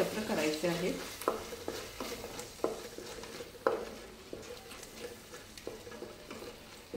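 Chilli powder, salt and spices frying in a pan while being stirred with a spoon, a soft sizzle broken by repeated scraping clicks at an irregular pace, fairly faint and close.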